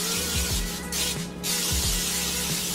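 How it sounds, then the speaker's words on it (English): Zero-calorie non-stick cooking spray hisses onto a two-sided waffle maker in a short series of close, loud, breathy bursts with brief gaps between them. "I got some zero calorie non-stick spray. Give it a little spray."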